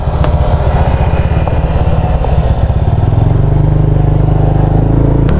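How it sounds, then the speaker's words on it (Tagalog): Loud, continuous motorcycle engine drone with a throbbing low rumble, close by, as many motorcycles and scooters idle and rev at a roadside eatery in San Juan, Batangas, without any talking. "Ayun, daming motor oh."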